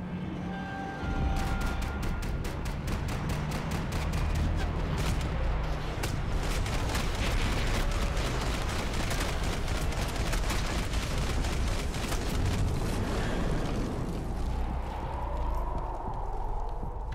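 Rapid gunfire in the video game Max Payne 3, a dense run of sharp shots fired in quick bursts for most of the stretch, loud and continuous over game noise with no talking.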